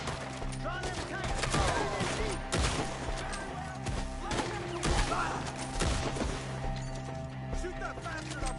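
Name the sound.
gunfire in Red Dead Redemption 2 video game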